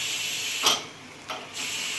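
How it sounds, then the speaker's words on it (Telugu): A pressure cooker vents its leftover steam after whistling, a loud continuous hiss heard close up that briefly dips twice before rushing back at full strength. "కొంచెం ఆవిరి ఉంది, పోవాలి."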